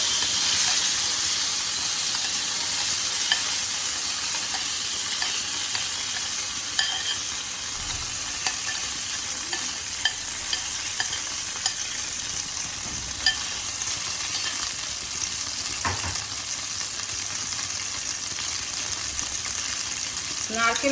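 Taro paste sizzles and fries steadily in a hot pan while being stirred, a continuous bright hiss with occasional scraping knocks throughout.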